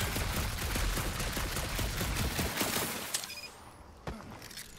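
A gun firing in Guardians of the Galaxy: a dense, rapid stream of shots that stops abruptly, followed by a few scattered impacts and a faint electronic tone.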